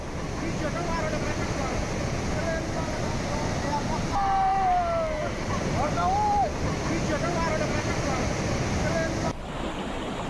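A floodwater torrent rushes down a ravine stream in Himachal after heavy rain, a constant loud roar of churning water with wind buffeting the microphone, and a few brief whistling tones partway through.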